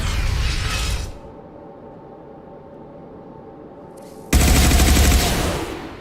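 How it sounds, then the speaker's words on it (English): Assault rifle fire in Mass Effect 2: a loud burst of automatic shots, then a quiet gap, then a second sustained burst that starts abruptly and tails off at the end. "And I got the assault rifle out."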